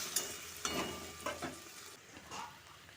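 Ginger paste, tomato and green chilli fry in a pan as a quiet sizzle, with a few light scraping stirs and soft clinks close by.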